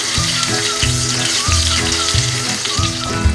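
Chicken chapli kebabs fry in a pan with a steady, close sizzle and crackle. Soft, regular thumps and scraping of a spoon pressing or turning them run underneath, and no one speaks.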